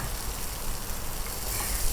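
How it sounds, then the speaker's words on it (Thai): Pounded curry paste stir-fries in hot oil in a wok, a dense, close, continuous sizzle with faint stirring, no voices. "ตั้งกระทะใส่น้ำมันให้ร้อนนะคะ ผัดเครื่องแกงที่เราโขกไว้ให้หอม"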